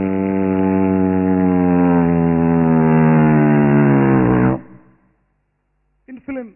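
A stage performer imitates an old propeller aeroplane with his voice, a loud sustained droning buzz that rises slightly in pitch for several seconds before cutting off, followed by brief vocal sounds.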